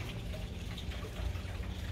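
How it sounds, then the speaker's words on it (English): A garden water feature at a home in La Floresta, Ajijic, near Lake Chapala, Mexico, gives off a steady, moderately loud rush of running, splashing water, continuous throughout with no talking. "The sound of running water"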